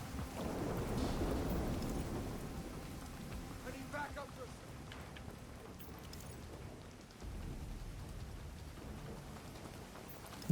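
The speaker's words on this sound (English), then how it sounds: "With this rain as well" Steady rain falls with low rolling thunder rumbling through it, a continuous wash of noise during an evening stream, louder in the first seconds and then settling to a softer patter.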